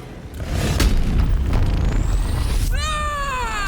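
Turrets blowing up in Baldur's Gate 3, a dull boom followed by a sustained rumbling roar, then bright rising whistling tones near the end, with no talk.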